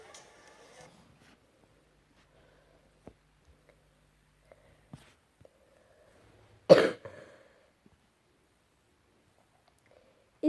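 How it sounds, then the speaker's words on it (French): A single sharp cough close to the mic around the middle, with faint rustles and small taps before it and another burst at the very end. "j'arrête pas de tousser en ce moment là"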